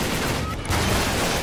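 Rapid gunfire during a firefight in Uncharted 3, a dense, loud burst of overlapping shots filling a short moment with a desert battle's chaotic crackle.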